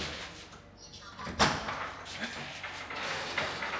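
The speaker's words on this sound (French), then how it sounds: "Je vais ouvrir la porte" A door opening inside a villa in Bali, with a sharp knock-like transient against the frame amid people talking nearby and low room noise.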